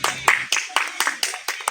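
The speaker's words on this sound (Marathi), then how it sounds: "टाळ्या वाजवा रे." Children clap in short, uneven bursts at a village school results gathering, several quick rounds of claps close by with voices mixed in.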